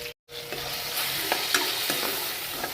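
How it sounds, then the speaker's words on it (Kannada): Steady hot-oil sizzling of spices frying in a pan, crackling and popping continuously after a brief silent gap at the start, close and fairly loud. "ಆಲ್ರೆಡಿ ಒಗ್ಗರಣೆ ಹಾಕಿ ನೋಡ್ರಿ"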